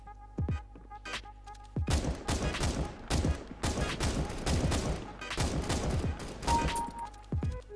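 Auto sniper rifle fire in a video game: a rapid series of loud, sharp reports comes in quick bursts with short gaps between them.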